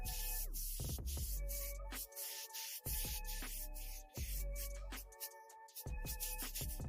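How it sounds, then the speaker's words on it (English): Bursts of hissing spray from an air gun applying sprayable bedliner, several passes separated by short pauses, loud and close. "Just spray it on."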